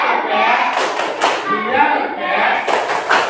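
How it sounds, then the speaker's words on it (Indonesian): A primary school class claps together in a rhythmic patterned cheer, sharp hand claps bursting in quick groups between children's chanted voices, loud and close in a classroom. "Berikan tepuk the best."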